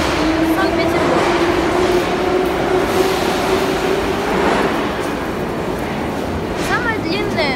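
A Saint Petersburg metro train on the line running from Kupchino to Parnas roars loudly and steadily, with rumbling wheels, rattling carriages and a faint whining tone, while a voice is heard beneath the noise.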